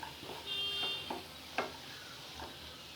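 Sprouted green peas stirred in a pan, with a few soft scraping and clinking strokes over a gentle sizzle, close and fairly quiet.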